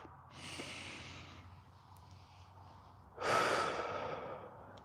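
Slow meditative breathing close to the mic: a long soft exhale early on, a quiet pause, then a stronger, louder breath near the end, with no talking.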